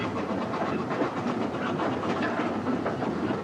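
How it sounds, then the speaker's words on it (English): Preserved steam locomotive number 2857 rolls into Hampton Loade station on a return working toward Kidderminster, a close, steady rumble of wheels and rattling carriages with hissing steam, no voices. "A number 2857, on a return working, rolls into the station on its way to Kidderminster."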